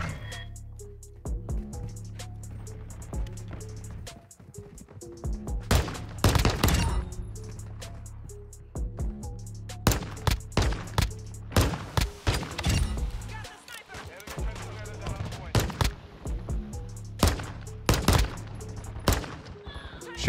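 Bryson 890 shotgun blasts in Modern Warfare 2, a string of loud, sharp booms at irregular intervals, some in quick bursts, with game ambience and a voice talking over parts of it.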